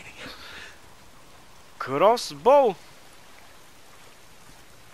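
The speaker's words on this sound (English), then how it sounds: "If it's not the freaks, it's the goddamn rain." Steady rain in the video game Days Gone, an even soft hiss running throughout at moderate level, briefly joined by a man's short spoken question midway.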